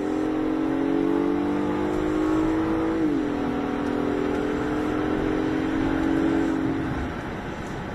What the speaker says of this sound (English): I love the sound of this thing.